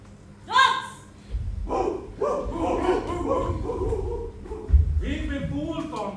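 Dogs barking on stage during a live theatre production of Animal Farm, a run of loud, layered barks and yelps rising and falling over several seconds, mixed with shouting voices.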